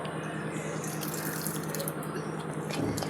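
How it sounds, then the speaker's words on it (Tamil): Water poured slowly into egg bajji batter in a mixing bowl, a steady running, tap-like trickle that stays even and close throughout, with a brief low bump near the end. "அப்புறம் வாட்டர் கொஞ்சம் கொஞ்சமாக ஆட் பண்ணிவிட்டு மாவை கிளறி விட்டுக்கலாம்."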